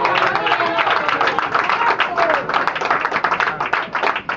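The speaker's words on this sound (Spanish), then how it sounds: "Un aplauso al Señor." A church congregation claps and applauds steadily and fairly loudly for several seconds, a dense patter of many hands.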